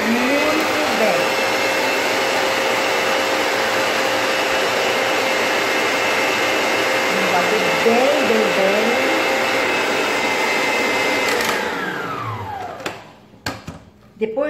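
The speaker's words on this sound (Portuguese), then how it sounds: "Nós vamos bater três ovos com 200 gramas de açúcar. Vamos bater bem isso aqui." Electric mixer beating three eggs with 200 grams of sugar for a cornmeal chocolate cake, a loud steady whirring hum that wavers in pitch, fading out near the end with a few clatters.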